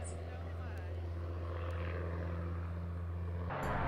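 A small propeller airplane climbing out of a short, tree-lined mountain strip at Camp Patriot, Montana, its engine droning in a steady, strong hum with deep harmonic tones, holding constant before an abrupt shift near the end.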